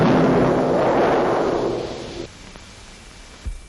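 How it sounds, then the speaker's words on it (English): A four-pound dynamite charge fired for a 1936 seismic oil survey, a single loud, long rumbling blast that slowly dies away over a couple of seconds, followed by a faint thump. "4 pounds of dynamite in this charge."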